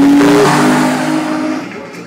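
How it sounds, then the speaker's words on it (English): A wide Nissan 350Z at a car show in Karachi, its engine loud and close with a strong revving drone that slowly eases off over a couple of seconds. "Zafar Naqsi, beautiful looking 350ZX. He's been driving it well also"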